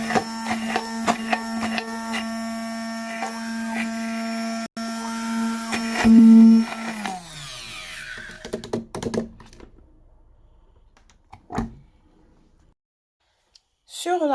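A blender whirs through onion leaves, garlic, diced onion and pepper with a loud, steady motor whine for about seven seconds, then winds down and stops, leaving quiet kitchen clatter.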